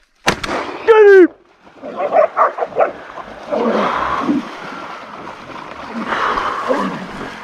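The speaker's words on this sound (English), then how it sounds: "Good dogs!" Hunting dogs erupt into loud, chaotic barking and yelping outdoors, starting with a sharp yelp, then a sustained, noisy tumult of barks and scuffling that continues without letup.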